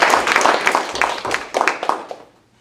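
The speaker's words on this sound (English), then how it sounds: "You can clap for that, it's okay." An audience claps together in a dense burst of applause at an alumni talk. The clapping fades out toward the end, and no speech is heard over it.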